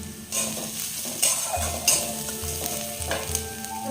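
Potato filling with coriander leaves cooked in a pan for sujir bom, sizzling steadily while a utensil stirs and scrapes in repeated strokes, close and clear with no talking.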